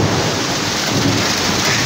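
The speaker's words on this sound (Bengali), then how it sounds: "দেখুন বৃষ্টির তীব্রতা একটু দেখুন।" A Kalbaishakhi hailstorm brings heavy rain and thunder: a loud, continuous, even wash of downpour that fills the whole moment with no voices.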